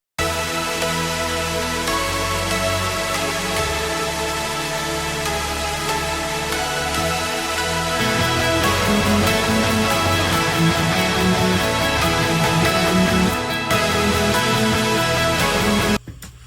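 Darker keyboard layer from a song production session, a sustained dense music passage playing steadily and loud for about sixteen seconds before cutting off, with no talking.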